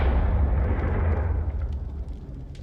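A fire-blasting Confringo spell goes off in a video game as a loud, deep booming explosion whose broad rumble slowly fades over a couple of seconds, with no talking.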